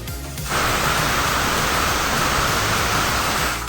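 Pressure cooker cooking dal for sambar lets off a loud, steady hiss of escaping steam that starts abruptly and holds continuously for several seconds, alone with no talk.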